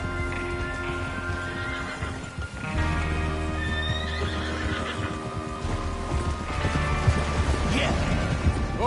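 Horses neigh and hooves clip-clop continuously in a Red Dead Redemption 2 game scene, with loud whinnies over steady hoofbeats and people talking throughout.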